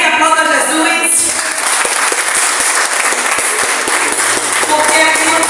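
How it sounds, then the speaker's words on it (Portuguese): Church congregation applauding during a service, loud sustained clapping from a crowd filling the room, starting right after a spoken line and continuing steadily to the end. "Aplauda Jesus."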